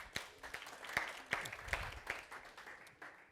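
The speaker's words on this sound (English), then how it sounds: "Give yourselves a round of applause." Scattered, fairly faint applause from a teacher masterclass audience, with a few distinct claps standing out over thin, uneven clapping that tapers off.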